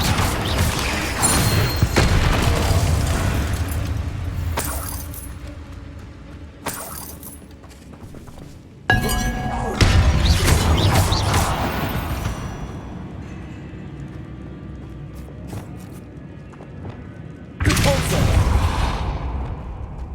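Confringo blasting spells strike a barricade in the Hogwarts Legacy video game, giving several loud booming bursts with crackling, shattering debris spaced across the stretch, each followed by rumbling decay.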